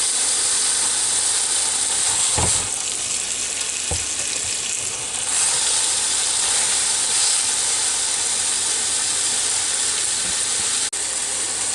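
Seven elk patties cooking in a closed George Foreman grill, a steady loud sizzle and hiss heard up close, with a couple of brief knocks early on.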